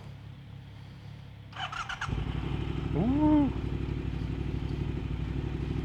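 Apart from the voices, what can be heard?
motorcycle engine starting and revving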